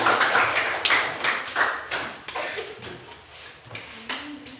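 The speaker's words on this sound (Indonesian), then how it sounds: "Oke, tepuk tangan dulu." A classroom of students clapping their hands during a lesson, a dense, steady patter of many claps close by that gradually thins and fades toward the end.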